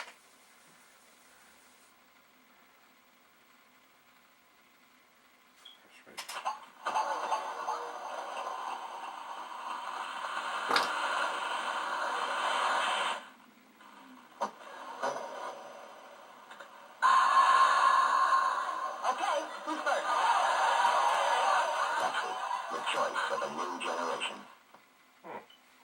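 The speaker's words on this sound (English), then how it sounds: "that was the sound of a Pepsi ad." Noisy, crackly sampled audio of a Pepsi advert plays from a Commodore 64 in two long bursts, hissy and distorted like low-fidelity digitized speech with a gap between.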